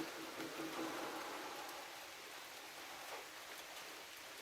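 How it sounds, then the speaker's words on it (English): Soft, steady rain hiss, faint and continuous, with occasional light drips against a surface. "I didn't know it was going to rain today, but it is raining."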